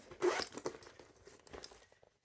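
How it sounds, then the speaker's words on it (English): A zipper is pulled open in a few quick rasping strokes, close by, then the sound trails off into quiet; the top zipper of a denim Louis Vuitton Speedy bag. "And it has a top zipper here"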